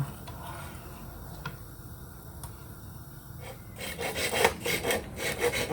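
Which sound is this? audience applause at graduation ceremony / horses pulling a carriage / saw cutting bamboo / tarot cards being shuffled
saw cutting bamboo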